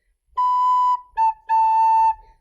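A recorder plays three clear notes on nearly the same pitch, long, short, then long, with brief gaps between them in a quiet room.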